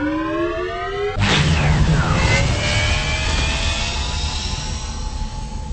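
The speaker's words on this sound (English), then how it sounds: "Engine powering on." A sci-fi engine in the Roblox game powers on abruptly after a short rising electronic tone, then settles into a loud, sustained rumble and whine with a descending swoosh, steady and close.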